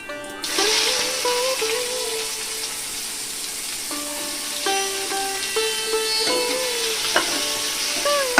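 Chopped onion added to hot oil with whole cumin for a Bengali kochur loti dish, frying with a steady soft sizzle and occasional stirring, under tonal background music.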